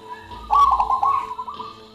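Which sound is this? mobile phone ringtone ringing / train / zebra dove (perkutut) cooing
zebra dove (perkutut) cooing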